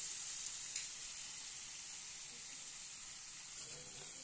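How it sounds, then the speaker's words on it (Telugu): Soaked tamarind juice poured into a chili curry cooking on the stove gives a faint, steady hiss and sizzle, soft and continuous with a brief splash near the start. "ముందుగా నానబెట్టుకున్న చింతపండు పులుసుని యాడ్ చేసుకుందాం."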